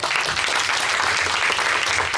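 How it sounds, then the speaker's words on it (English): An audience at a women in sales networking event claps steadily, a thick, even wash of applause throughout. "can we have a round of applause for our speakers, please?"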